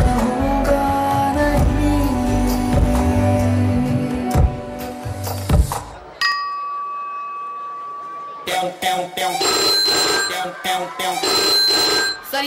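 A mobile phone rings loudly in a school classroom during an anti-cheating exam drive, its melodic ringtone playing, breaking into a steady tone and then resuming, with voices around it.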